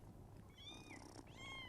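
House cats give a couple of short, high meows close by, one after another, over a quiet hum.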